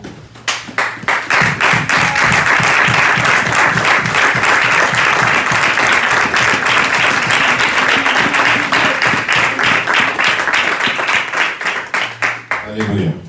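A church congregation at a Sunday service claps loudly and steadily to acclaim the word of God, a dense, sustained round of applause that fills the space from start to finish before thinning out at the end.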